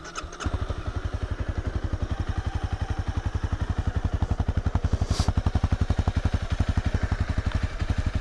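A 2015 Honda CBR300R with a bulky stock exhaust idles close by, its engine starting into a steady, rapid, even thumping pulse that continues unbroken throughout.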